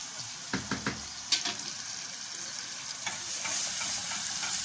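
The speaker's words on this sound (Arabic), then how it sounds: "نقلب المكرونه كده نديها تقليبه كده حلوه" Macaroni for kushari gets stirred in a pot, a few short scrapes and knocks of the utensil against the pot over a steady, faint sizzling hiss, with no talking.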